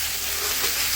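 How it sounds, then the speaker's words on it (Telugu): Pieces of food sizzle and fry steadily in a hot pan while being stirred, a continuous close hiss with faint scraping throughout and no voices. "ముక్కలు వేసుకొని మొత్తం అయితే కలుపుతున్నాను."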